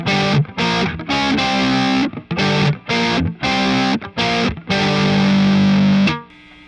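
Distorted electric guitar playing a riff with upstrokes, picked very close to the bridge for a snappy tone; loud, choppy chord stabs ending on a long held chord, no talking.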